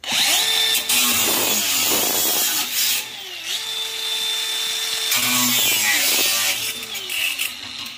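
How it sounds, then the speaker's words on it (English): An electric angle grinder cuts through a copper and aluminum A-coil being scrapped, a loud continuous whine that runs for the whole clip, its pitch dipping and rising as the disc bites into the metal, with no talking. "So I just take my grinder here."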